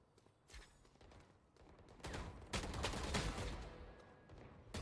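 Gunfire in a competitive shooter match, several bursts of shots building to a loud, dense stretch near the end, with faint footsteps underneath.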